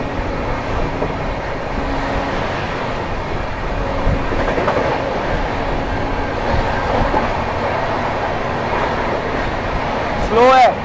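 A Mumbai LTT–Patliputra superfast express rolls past on the rails with a loud, sustained rumble and clattering wheels, a voice talking over it and a brief sharp squeal near the end.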